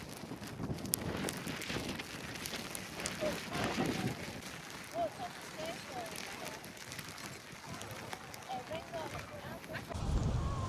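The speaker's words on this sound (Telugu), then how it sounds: "బాగా వర్షం పడుతుంది." Heavy rain falls at an outdoor farmer show horse competition in Carnwath, Scotland, a steady close patter and hiss on surfaces beneath ongoing talk, with occasional louder gusty bursts.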